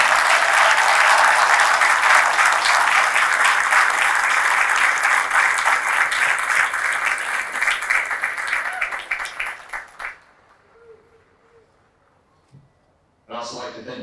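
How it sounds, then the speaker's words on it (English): Large outdoor audience applauds drill instructors at a Marine Corps recruit graduation at MCRD San Diego, strong steady clapping for about ten seconds that fades out, followed by a brief silence before a voice resumes. "So please join me in a well-deserved round of applause for the drill instructors of Alpha Company."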